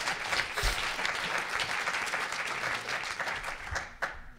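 An audience claps at a panel event on incarceration, a full, sustained burst of applause that stays strong and thins slightly near the end.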